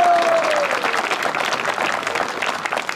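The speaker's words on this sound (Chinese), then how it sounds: "再一次掌声，热烈起来。" A room of wedding guests breaks into applause after a groom's nervous speech, steady clapping throughout the few seconds with a faint tone fading out at the start.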